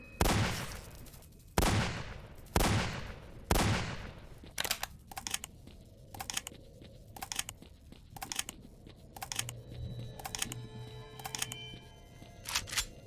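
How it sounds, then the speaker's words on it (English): A shotgun in the game STALKER fires four loud, spaced blasts, each with a short ringing decay. Softer rapid pops follow, along with clicks and clattering bits of gameplay noise. "Is it me, or is this shotgun woefully underpowered?"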